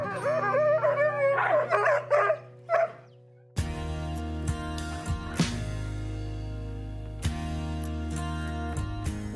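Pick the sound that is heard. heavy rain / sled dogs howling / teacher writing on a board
sled dogs howling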